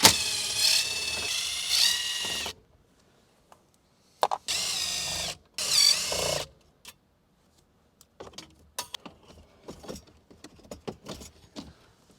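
A power drill whirs in short bursts while backing out screws from the factory radio in a Ford F150 cab, followed by quieter clicks and rattles of handled parts and screws.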